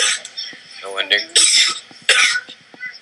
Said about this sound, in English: Yep, cough.